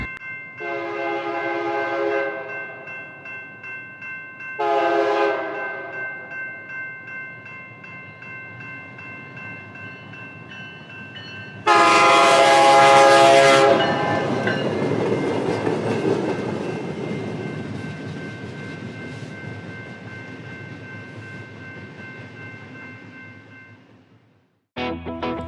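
Narrow gauge train at McCormick Stillman Railroad Park in Scottsdale, Arizona, sounding two short horn blasts, then a long loud horn blast followed by the steady rumble of the cars rolling past and fading out.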